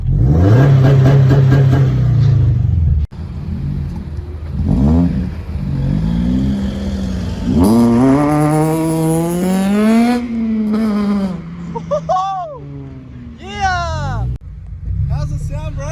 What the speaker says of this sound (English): when Vtec crosses over, it sounds so fucking mad.